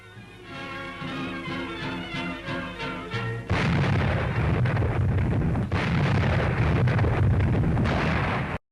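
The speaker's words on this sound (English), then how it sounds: "Many forts and pillboxes overrun by the Americans are blown up." Captured forts and pillboxes on the Siegfried Line being blown up in World War II, heard as loud, sustained roaring blasts and rumbling detonations that swell abruptly midway and fill the clip.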